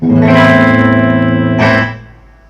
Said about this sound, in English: And then the bridge pickup full on.